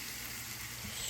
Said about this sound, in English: Potatoes in the pan.